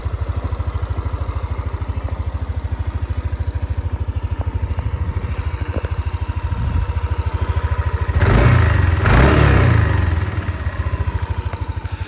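A Yamaha NMAX 155 scooter from 2024 with a fuel-injected engine idles quietly, holding a steady low drone throughout, with one louder burst of noise around the eighth second.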